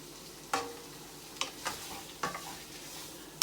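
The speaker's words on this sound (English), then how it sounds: "I'm gonna let that saute for a minute, just like that" Ground pork with seasoning sautés in a pan for baked spaghetti, giving a low, quiet sizzle broken by a few sharp, isolated scrapes and taps from stirring.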